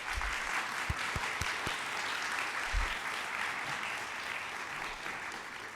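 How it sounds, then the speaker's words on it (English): An audience at an architecture keynote lecture applauds steadily throughout, a dense continuous clapping with a few louder nearby claps early on, and no talking. "give them a big round of applause."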